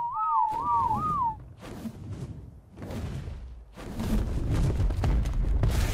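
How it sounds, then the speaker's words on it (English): In the video game ARK, a clear wavering whistle command rises and falls twice near the start, followed by dull thumps, whooshes and rumbling game action with no speech. "Whistle her immediately back."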